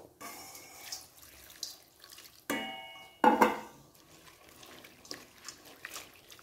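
About 100 grams of dried anchovies are washed in water in a kitchen sink: splashing, swishing and trickling tap water with a few louder sloshing bursts, close and without talk.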